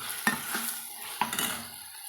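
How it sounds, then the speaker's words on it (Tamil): Tomatoes and brinjal sautéing in oil in a pan, with a spoon scraping and stirring in two or three distinct strokes over a soft, steady sizzle, close up and with no talking. "பாருங்க நம்மளுக்கு 1 நிமிஷத்துலேயே தக்காளி நல்லா வதங்கி எண்ணெய் பிரிஞ்சு வந்துருச்சுங்க"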